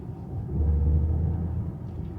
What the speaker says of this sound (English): this car does have a button down here for a more aggressive exhaust note